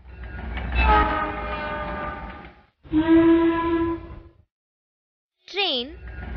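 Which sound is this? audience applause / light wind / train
train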